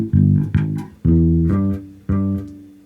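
Bass guitar plays a short melodic line of sustained, low notes with a double chromatic approach at the end of the measure, each note plucked cleanly and ringing close and alone.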